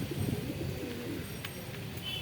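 Pigeons of Giribaj and Shahjahanpuri breeds cooing in a home loft, a low continuous murmur of soft coos with faint chirps above it, close and steady without talk.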